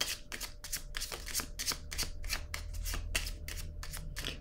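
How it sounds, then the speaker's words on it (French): A deck of cards is shuffled by hand, giving a rapid, even run of crisp riffling flicks close up, with no talking. "je vais piger une autre carte ici"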